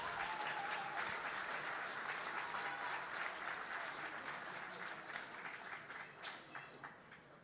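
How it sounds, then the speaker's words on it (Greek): Spectators at a Cyprus versus Israel rugby match applaud as an injured player with a hurt ankle leaves the field, a sustained wash of distant clapping that slowly fades. "Ακούμε τον κόσμο να χειροκροτάει και από τις δύο ομάδες."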